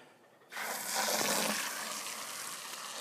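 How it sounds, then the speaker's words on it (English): Water suddenly gushes from a tap into a bucket, a loud steady splashing rush that continues without voices. "fill up about half a bucket of water"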